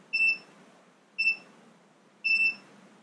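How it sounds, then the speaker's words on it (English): A multimeter beeps while testing the ignition of a Mercury Thunderbolt 500 50 HP outboard, giving three short, bright beeps spaced about a second apart over a faint low hum, with no speech. "There's not enough voltage going through the meter to keep it just a solid beep."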